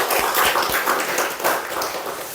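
Church congregation applauding in thanks during a Sunday service, a dense, steady burst of many hands clapping for a couple of seconds, fairly close and without talk.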